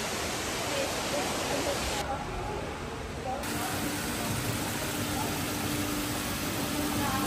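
A tall man-made waterfall in Singapore roars as a steady, loud broadband rush of falling water with drifting mist, continuous and close throughout, with faint voices of onlookers underneath.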